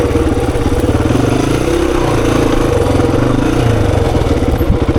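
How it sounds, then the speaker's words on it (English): A 26-year-old Honda XR400 dirt bike engine lugging in first gear on an enduro singletrack loop, a loud, close, steady low thumping exhaust pulse with mechanical clatter throughout. "You just roll into first gear and it's just got all that bottom end oozing torque."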